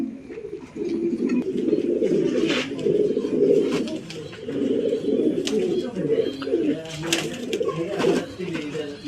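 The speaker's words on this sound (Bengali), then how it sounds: "এখানে দেখেন খুবই ভালো মানের পমেনিয়াম কবুতরগুলো" Pomeranian pouter pigeons in a loft coo in continuous, overlapping low, throaty rolls, close and fairly loud, with a voice speaking at times alongside.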